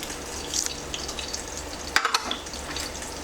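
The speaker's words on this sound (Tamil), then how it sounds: "பட்டர் கரைஞ்செடுத்து சோம்பு போட போகிறேன்." Fennel seeds and bay leaf frying in melted butter: a faint, close sizzle with a few soft stirring clicks and a brief clatter midway.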